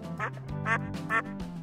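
Pet ducks quack in a short series of three loud, nasal calls, close and clear, with no other sounds around them.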